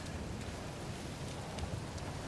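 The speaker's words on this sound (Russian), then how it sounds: "Какой жесткий ливень. И какой красивый ливень." Heavy tropical downpour in the video game Uncharted 4, a steady dense hiss of rain with a low rumbling undertone, continuous and fairly loud throughout with no voices.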